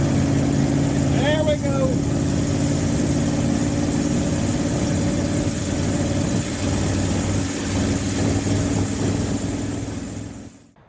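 A big block 454 dually truck engine idling with a steady low rumble and faint tonal hum, close and continuous for the whole stretch, with a brief voice speaking early on.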